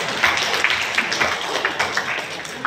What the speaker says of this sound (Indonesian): Mari kita kasih tepuk tangan sekali lagi